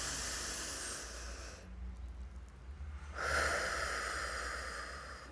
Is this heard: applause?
no